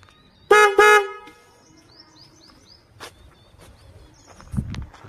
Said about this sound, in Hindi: तो अभी मैं हॉर्न मारूंगा